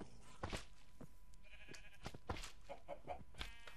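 Sheep in a Minecraft game with a custom resource pack bleat several times in short, repeated calls, fairly close and clear against a steady background.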